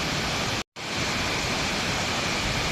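Tat Siang Lue waterfall, a tall cascade on the Thai–Lao border, roars steadily as water plunges down, a dense continuous rush broken by one brief dropout.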